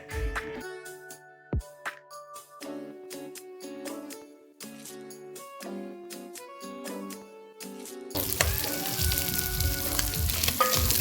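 Matumbo (tripe) frying in a little oil in a pan: a steady, dense sizzle starts partway through, after a stretch of tonal music, and continues loudly to the end.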